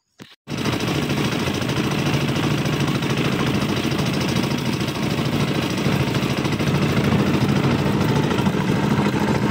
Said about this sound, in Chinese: 坐上老爸的拖拉机回家了。